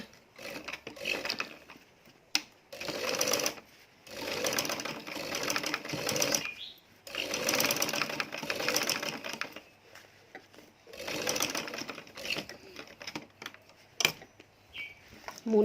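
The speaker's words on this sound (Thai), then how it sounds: "ด้านล่างตรงนี้เราจะเย็บนะคะ" A sewing machine stitches the back pocket of a pair of trousers, running in several bursts of rapid mechanical whirring separated by short pauses, close and moderately quiet.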